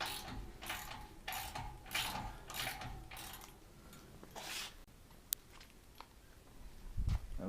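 A ratchet wrench loosens fasteners on a C-Dory boat, giving a series of rapid clicking pulls in quick rhythmic bursts, close and crisp, followed by a few scattered metallic taps.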